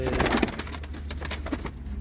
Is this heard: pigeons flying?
yes